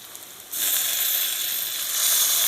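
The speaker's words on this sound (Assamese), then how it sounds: "এতিয়া মই ইয়াত অকণমান পানী দি দিম।" Water poured into a hot pan of pork cooking without oil or turmeric: after a quiet half second, a sudden loud bright sizzle bursts up and hisses steadily, swelling again near the end, with no talk.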